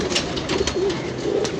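Teddy pigeons coo softly nearby in a brief sequence of low, rolling calls, with faint scattered clicks and no talking.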